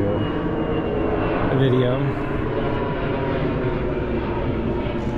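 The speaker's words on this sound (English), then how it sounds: "There's always an airplane every time I do" A fixed-wing airplane passing overhead above a Philadelphia garden, a low, steady engine drone that swells briefly and then holds under a person talking nearby.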